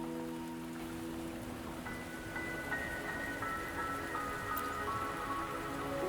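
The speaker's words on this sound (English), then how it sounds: "the rain won't last much longer" Steady rain falling in the Wuthering Waves video game, a continuous soft patter with light drips, accompanied by quiet sustained musical tones.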